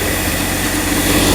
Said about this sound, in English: it should be alright to do that while the engine's running